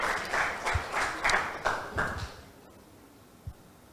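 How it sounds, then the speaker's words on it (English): Audience applause for a judge at a university English debate, a short burst of clapping that fades out after about two and a half seconds, with a single thump near the end. "please give the judge a big round of applause"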